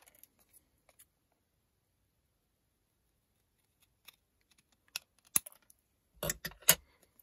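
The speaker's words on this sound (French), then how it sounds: "Donc là, moi, je vais prendre mes ciseaux." Scissors cutting paper for a junk journal tag: a few faint, close snips and crisp clicks after a quiet start, clustering near the end.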